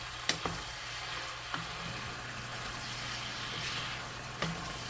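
Chicken hearts frying in a pan with soy sauce and bay leaves, giving a steady low sizzle with a few soft clinks of stirring, no voices.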